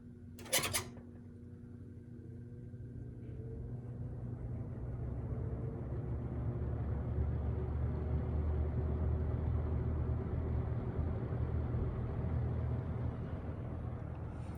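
A 1987 Lasko box fan, model 3713, with second-generation plastic blades, starts up on its low setting, heard from the rear: a click, then a low motor hum and broadband whoosh of air that builds steadily over several seconds and holds.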